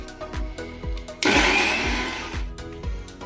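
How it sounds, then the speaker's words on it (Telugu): A mixer grinder blending cooked gongura leaves into a paste kicks in and roars for about a second and a half over a steady rhythmic beat of background music. "చల్లారిన గోంగూరను నేను మిక్స్ పడుతున్నాను"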